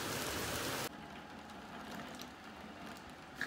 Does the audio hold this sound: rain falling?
yes